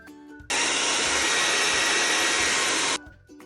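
A blow dryer drying paint on a painting runs as a loud, steady rushing whoosh for about two and a half seconds, then switches off abruptly.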